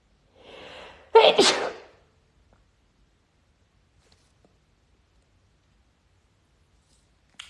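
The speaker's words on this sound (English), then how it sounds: "I'm going to sneeze." One person sneezes once, a quick breathy intake and then a loud, close burst, followed by near silence.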